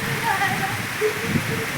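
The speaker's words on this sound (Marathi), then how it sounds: "थोडा थोडा पाऊस चालू आहे" Steady rain patter fills the background while faint voices murmur over it.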